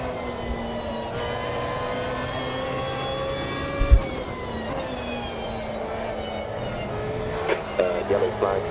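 A race car engine in a racing video game holds a steady, loud, buzzing drone that climbs and dips in pitch as it revs, with a few short sharp bursts near the end.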